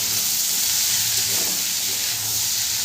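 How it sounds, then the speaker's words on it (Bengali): Potatoes fry in hot oil with turmeric powder for alu posto, giving a steady, close, even hiss and sizzle throughout. "হলুদ গুঁড়োটা দিয়েও আমি ভালো করে আলুটাকে ভেজে নেব।"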